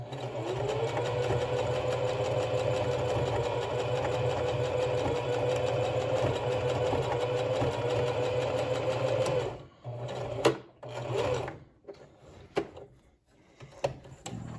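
A sewing machine runs steadily at close range as it stitches a ski muff, a continuous whirring drone for about nine and a half seconds, then stopping and giving way to brief handling clunks and thumps.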